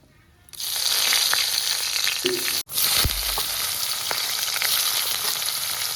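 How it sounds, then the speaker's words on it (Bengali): Whole spices (dried red chilli, bay leaf, cumin, cinnamon, cloves and cardamom) dropped into hot oil burst into a loud, dense sizzle that keeps crackling steadily, with a brief break and a dull thump partway through. "তো এই তেলের মধ্যে এই মশলাগুলো দিয়ে দেবো"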